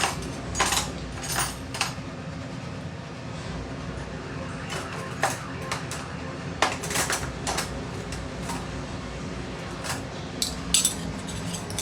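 A spoon and dishes are handled in a home kitchen, with repeated clinks and clatters of metal against crockery over a busy, low background murmur.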